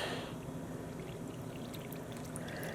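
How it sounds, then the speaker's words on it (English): Warm tap water pouring steadily into a mason jar of yarn and dye, a continuous soft rushing stream with a faint bright trickle near the end, close and quiet, no talking. "And the tap water I'm adding is warm."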